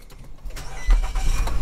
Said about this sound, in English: Voila, it starts.